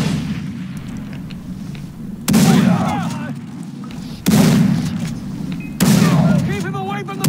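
Explosions and gunfire in the shooter game Far Cry 3: three loud, sudden booming blasts spaced a couple of seconds apart, each ringing out over a steady rumble, with voices partly heard in the mix.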